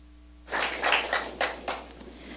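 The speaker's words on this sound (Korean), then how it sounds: "큰 박수 부탁드립니다" Audience applause after a speaker is introduced at a Korean AWS cloud education talk; a burst of clapping from a crowd starts suddenly and continues steadily at moderate distance, with no talking.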